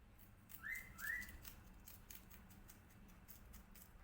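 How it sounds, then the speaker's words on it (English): A pet cockatiel gives two short, rising whistled notes in quick succession, faint and a little distant, followed by soft scattered tapping in a quiet room. "my cockatiel bird starts singing actually"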